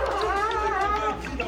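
A security guard dog howls and whines in a close, wavering cry with rising and falling pitch, loud and sustained over a low background hum.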